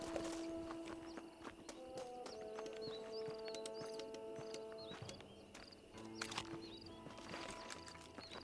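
Horse hooves clip-clop in the video game Red Dead Redemption as rhythmic, fairly faint steps. Music, game ambience and other effects play over them.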